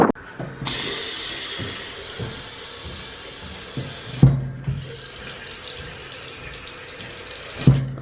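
A faucet runs steadily into a sink, water splashing continuously at close range, with a few brief clunks and knocks as the tap is handled, and no talking.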